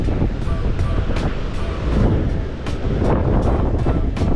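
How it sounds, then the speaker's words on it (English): Strong wind at a surfing beach in Cancun blasting across the microphone in a loud, continuous rumbling roar, with the rush of surf underneath and repeated sharp gust bursts. "It is extremely windy."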